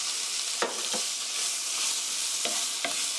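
Onions browned in a pan with tomatoes added, stir-frying under a steady broadband sizzle, with several sharp spatula scrapes and clacks against the pan.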